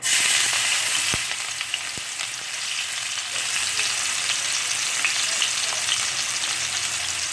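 Ginger frying in a pan for chicken arroz caldo, a loud, dense sizzle throughout with a couple of faint stirring knocks.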